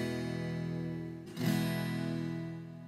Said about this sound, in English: gently strum down on the guitar strings like this